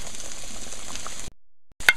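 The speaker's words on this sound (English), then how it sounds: "It's frying there nicely." Beef seasoned with black pepper sizzles in a frying pan, a steady close crackle of frying that cuts off abruptly into silence, followed by a brief clink.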